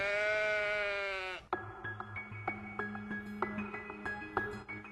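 A single sheep bleats loudly and steadily at close range, followed by a quiet stretch of faint tapping and clicking sounds.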